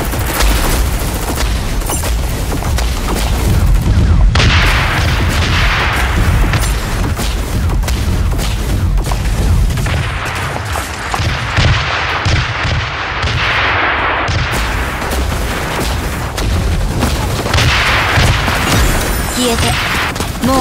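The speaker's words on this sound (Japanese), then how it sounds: "銃声が聞こえた。" Dense, continuous bursts of gunfire and booming blasts fill a scene in the mech video game Super Mecha Champions, loud and chaotic, with voices occasionally breaking through the din.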